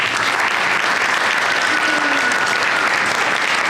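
A large audience breaks into sustained, dense applause to welcome a music industry panel onto the stage in the Lehigh Valley, steady and loud throughout with no voices over it.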